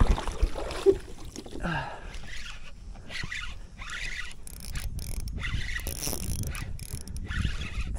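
A fishing reel's drag gives up line to a hooked redfish during paddle-board flats fishing, a steady buzzing ratchet running close and fairly loud over wind and water noise, with no talking.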